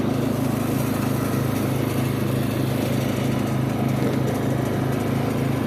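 A gas lawn mower runs continuously while cutting grass around a house, its engine throttled down to a steady, loud, even drone that holds unchanged throughout with no talk.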